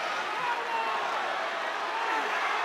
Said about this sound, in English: Bringing the crowd to its feet with 15 seconds